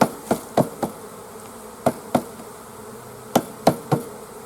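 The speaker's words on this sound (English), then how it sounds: "shake them and just tap them" Bees buzz steadily around a hive super while it is shaken and tapped, and about eight sharp, loud knocks land in small clusters over the continuous insect drone.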